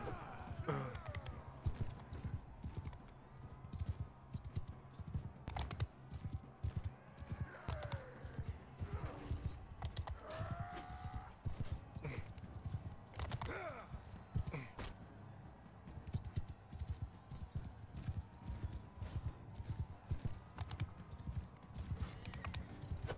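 Horse hooves clip-clop steadily through battle in the medieval combat game Mount & Blade II: Bannerlord, with a dense rhythmic gallop, occasional whinnies and clashing game noise running throughout.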